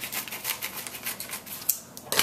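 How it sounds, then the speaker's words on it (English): Scissors cutting through a tightly taped mail package of trading cards: close, repeated rasping snips, then a couple of sharp clicks and a louder final cut. "I'll have to get out my scissors."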